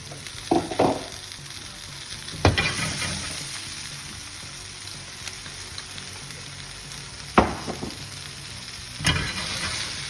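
Spinach sautés in a hot pan with a continuous sizzle, broken by several sharp scrapes and clanks of stirring, close and fairly loud with no talking.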